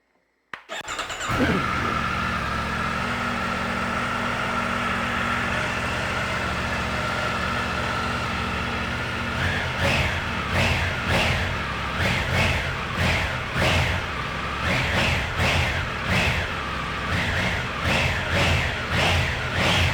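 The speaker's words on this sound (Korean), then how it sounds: "순정 머플러의 배기 사운드 한번 들어보고요." A 2021 Triumph Tiger 900 Pro motorcycle with its stock muffler starts up and idles with a steady exhaust rumble, then is revved in repeated rising bursts, close and loud.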